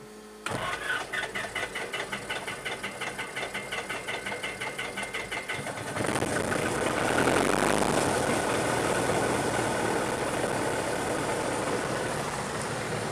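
A Piper PA-28 light aircraft piston engine cranks with a rapid rhythmic chugging for several seconds, then catches and settles into a steady, loud idle, running close and continuous with no voices.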